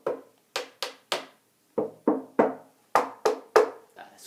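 Percussive strikes and scrapes on a guitar body and strings, about ten sharp close hits in an uneven rhythm, each with a short scraping decay, with no talking.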